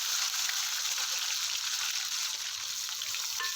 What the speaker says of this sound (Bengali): প্রথমে আলুটাকে একটু লালচে করে ভেজে নেব।